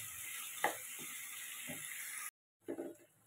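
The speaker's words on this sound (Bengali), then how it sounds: "এখন আমি চিকেনগুলো দিয়ে দিচ্ছি। দিয়ে ভালো করে কষিয়ে নেব আমি 10 থেকে 15 মিনিট মতো" Chicken pieces added to spiced masala in a pan, sizzling steadily with a couple of clanks and scrapes of stirring before a brief pause.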